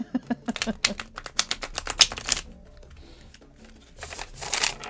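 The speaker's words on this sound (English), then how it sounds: "I'm going to try to shuffle these." A stiff tarot deck is riffled and shuffled in quick bursts of crisp card flutters and snaps, with a pause and then another rapid shuffle, close and fairly loud.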